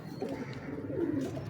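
Pigeons in a breeding loft coo softly and continuously, a low, murmuring bubbling that sits steady and fairly close, with no talking over it.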